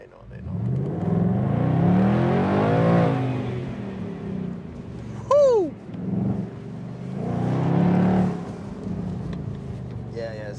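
A car engine surges twice as it accelerates while being driven, each rising and falling roar heard from inside the vehicle, with a brief high whistling tone between the surges and voices faintly present.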